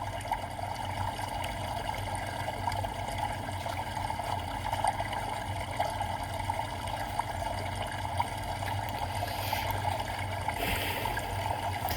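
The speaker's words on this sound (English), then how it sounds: "that noise in the background, it's called Bamboo Water Fountain Black Screen Water Sounds White Noise" A recording of a bamboo water fountain gives a faint, steady trickle and gurgle of running water, constant and soft throughout.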